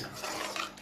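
Carrot halwa being stirred with milk in a pan, a utensil scraping and clinking against the metal in a brief, fairly quiet burst with no talking.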